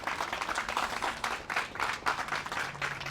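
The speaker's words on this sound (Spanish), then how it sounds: "Dele un aplauso fuerte al Señor." A church congregation claps in praise, a steady rhythmic applause of many hands at moderate distance, fairly soft and continuous.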